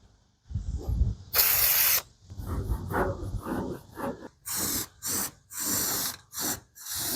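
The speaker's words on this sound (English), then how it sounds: "And since we're painting, you know what that means. Little brake cleaner." Brake cleaner sprays from an aerosol can onto the rusty wheel well of a 1989 Chevy K1500 4x4 pickup: one long hissing blast, then a run of several short, sharp bursts, close and loud.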